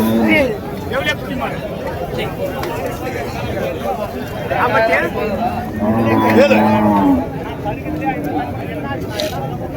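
Cattle, including a bull, moo and low repeatedly amid a busy crowd talking in Tamil at a livestock market in Krishnagiri District, with overlapping voices and animal calls throughout.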